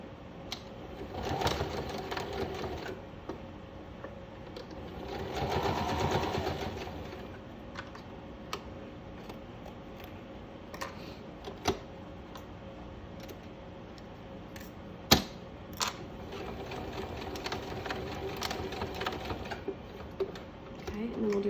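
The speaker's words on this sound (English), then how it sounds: "We'll flip and sew. Close up our edges." A sewing machine stitches closed the edges of a fabric face mask, its needle running in bursts of steady whirring with quieter pauses and a few sharp clicks between passes.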